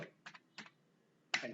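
Computer keyboard typing in a quiet room: a few soft, separate keystrokes followed by one sharper, louder press like an Enter key, with no one speaking.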